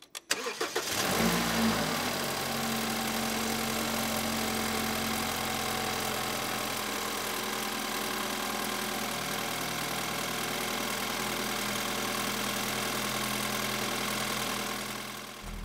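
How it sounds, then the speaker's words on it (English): A BMW F30 3 Series engine cranks briefly and catches, then settles into a steady, rumbling idle that continues evenly for a long stretch. "Alright, so starting the car."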